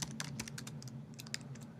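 Computer keyboard keys tapped in quick, uneven bursts while a chmod command is entered in a Unix terminal; close, light clicks with no talking.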